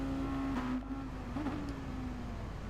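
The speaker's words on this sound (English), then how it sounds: "he really powers up that hill and really revving the engine quite a lot there." A race car engine in a racing video game holds a steady, high droning whine as it climbs a hill at the Red Bull Ring, with slight rises in pitch, loud and continuous without speech.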